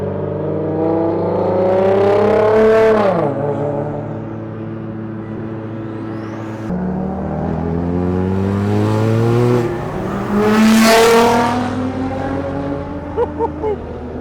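A Toyota Supra engine revs up hard and pulls away with a rising, throaty roar at a car meet in Borneo, then a second loud acceleration surges past nearby.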